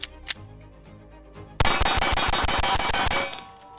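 A pistol fires ten rounds of Federal HST ammunition in a rapid, evenly spaced burst of sharp loud reports, preceded by a few faint clicks and followed by a fading ring.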